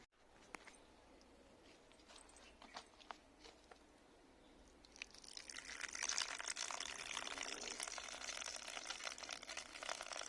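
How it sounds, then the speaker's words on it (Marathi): Water is poured into a flower pot sown with rose and fig seeds, aimed at one side of the pot. It starts as a faint trickle and grows into a steady, louder splashing pour. "एका बाजूनी पाणी देते"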